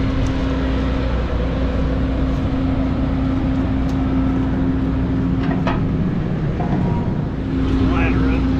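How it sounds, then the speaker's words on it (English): A John Deere X9 1100 combine with a 50 ft HD50R draper head harvests soybeans, giving a loud, unbroken engine and machinery drone with a steady hum, heard from inside the cab. "Let's take a ride on the X9 1100 with the HD50R draper head."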